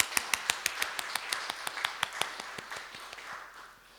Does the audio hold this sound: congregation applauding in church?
yes